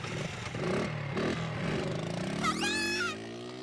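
A scooter engine buzzes and revs with rising pitch, fairly close, while a brief high whining squeal cuts in near the end.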